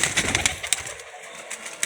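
Pigeon sounds from a coop or rooftop, with a bird coo and faint wing or movement noises in short bursts, fairly close and light against a quiet background with no talking.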